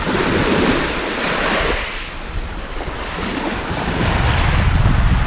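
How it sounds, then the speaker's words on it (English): Surf from the Alboran Sea washes steadily against the Andalusian coast, a loud continuous roar of waves mixed with wind rumble and no voices. "Now this is the Alboran Sea."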